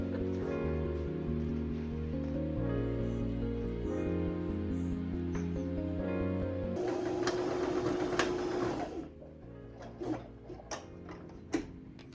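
A sewing machine stitching a quilted sundress runs in a steady rapid rhythm for about seven seconds, then stops, followed by handling clatter and a few light clicks, close and fairly quiet.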